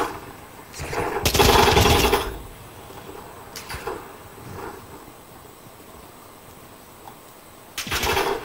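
Gunfire in the video game Call of Duty Warzone 2.0: a loud sustained burst of automatic fire, a few sharper isolated shots, then another burst near the end over a low background hum.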